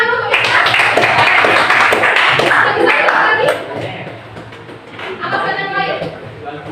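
A classroom of students claps for a classmate in a short burst of fairly close, lively hand clapping that fades after a few seconds, with voices speaking over and after it.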